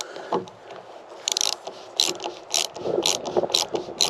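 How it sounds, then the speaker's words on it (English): A spanner ratchets while tightening rub rail bolts on a sailing boat under refit, giving close clicking bursts in quick irregular runs with scraping in between. "put this on and tighten it up from the other side. Spanner from Timu,"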